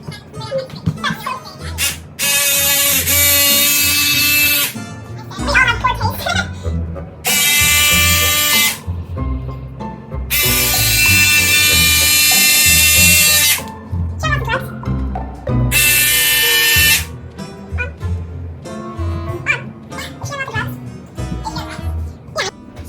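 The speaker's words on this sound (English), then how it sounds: "just sew the side seams" Sewing machine stitching the side seams of a dress for a Squid Game costume, several loud bursts of whirring motor running a few seconds each, separated by handling noise and short stretches of talking.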